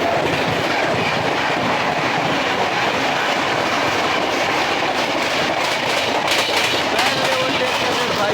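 An Indian Railways Tejas Rajdhani Express, Bhubaneswar to New Delhi, overtakes at speed: a loud, continuous rush of passing coaches with rattling wheel clatter and brief squeals, heard close by from an adjacent train.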